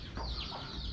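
A chicken clucks repeatedly against steady outdoor background noise.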